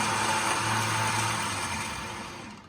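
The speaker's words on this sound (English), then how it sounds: "I'm not bringing my hands anywhere close to the winch because it's actually a very powerful motor. It'll pull the cable in" An electric winch motor hums steadily as it reels its cable back in, a close, continuous mechanical whir that slowly fades in loudness.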